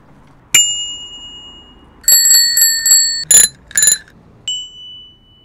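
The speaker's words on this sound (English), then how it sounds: "I quite like the bell." A bicycle bell rings several times: a single ding, then a quick run of rapid trills, two sharper strikes and a final fading ding, crisp and close with silence between.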